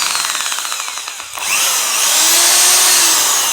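An electric drill running in reverse on a test after being taken apart and serviced, a steady high whine that briefly dips then picks up to a loud continuous buzz, close and alone.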